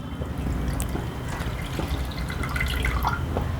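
Milk pours into a pan in a short, continuous liquid trickle and splash, close and moderately loud, with a few dripping accents toward the end.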